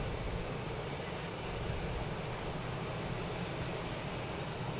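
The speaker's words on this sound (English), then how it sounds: "We got Avianca come around the corner over there." An Avianca airliner taxiing at Boston Logan Airport gives a steady, distant broadband engine roar that holds level throughout with no talk.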